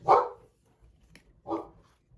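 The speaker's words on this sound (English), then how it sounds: "Sorry for the dog barking." A dog barks twice, a sharp bark then another after a short pause, fairly close and otherwise quiet.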